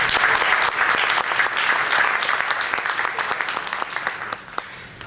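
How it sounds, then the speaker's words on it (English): Audience applause at a Sasquatch festival talk, a steady crowd of clapping hands that fills the room and gradually thins toward the end. "let's give her a round of applause"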